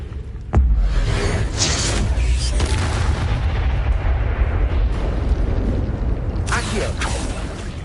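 An Incendio fire spell is cast in Hogwarts Legacy: a sudden sharp crack, then a loud, roaring whoosh that rumbles on for several seconds, with a voice speaking over it.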